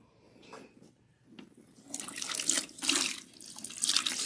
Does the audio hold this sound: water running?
yes